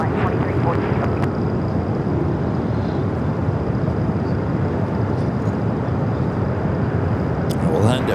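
A Frontier airliner takes off from runway 25 right at LAX, its jet engines producing a loud, steady broadband roar that holds constant and close for the whole stretch.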